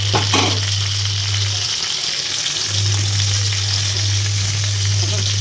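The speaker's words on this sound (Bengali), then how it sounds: "আমি মাছের মাথাটা উল্টে দিচ্ছি কারণ মাছের মাথা প্রচণ্ড ফোটে" A fish head frying in hot oil, spluttering and sizzling loudly and steadily at close range, with a low constant hum underneath throughout.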